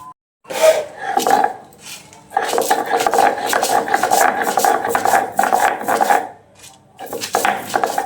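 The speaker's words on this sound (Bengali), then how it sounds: "আর আমি আগে শুকনো মরিচটা এখানে বেটে নিব।" Dried chilies and salt being ground on a grinding stone, giving bursts of rough rasping and scraping, repeated strokes with short pauses between, close and fairly loud.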